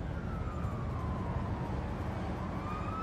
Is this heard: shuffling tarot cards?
no